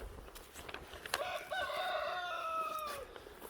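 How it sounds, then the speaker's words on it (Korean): A rooster crows once on a rural farm plot in Seongju, North Gyeongbuk, a long, clear call at moderate distance, with faint clucking from chickens and quiet outdoor ambience. "닭도 키우고 있고요."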